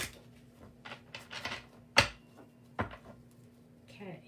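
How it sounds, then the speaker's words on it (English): Tarot cards are shuffled by hand with a few soft riffles and sharp card slaps, brief and close to the microphone, during quiet moments of a live reading. "let's get one more shuffle."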